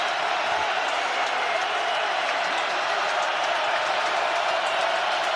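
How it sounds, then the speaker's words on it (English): A stadium crowd roars in a steady, full wash of noise on a third down and 10 at an NFL game between the Chiefs and Ravens, loud and continuous throughout with no clear breaks. "Crowd in full throat on a 3rd down and 10."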